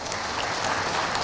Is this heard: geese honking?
no